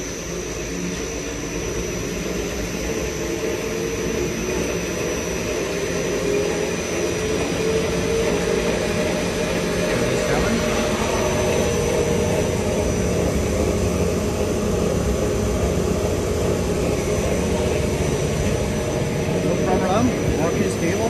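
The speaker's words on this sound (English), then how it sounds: "Now the shaft would be speed up to the max speed" An explosion-proof kneader mixer for NBR rubber runs its shaft at maximum speed in reverse, making a loud, steady, broadband mechanical roar and hum that continues without letup.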